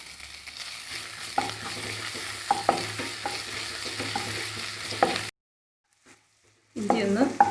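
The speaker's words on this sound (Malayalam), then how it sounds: "അതിലേക്ക് ചേർത്ത് കൊടുക്കുന്നത് 1 ടേബിൾ സ്പൂണ് ഇഞ്ചി പൊടിയായിട്ട് അരിഞ്ഞത്." Finely chopped ginger sizzles and fries in melted butter while being stirred in a pan for chicken macaroni, with a steady crackle, brief scrapes, and a short silent break before the frying resumes.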